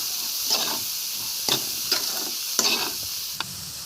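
Moth bean usal with turmeric and salt is stirred in a sizzling pan, a steady hiss broken by about five distinct scraping stir strokes, close and unaccompanied by speech.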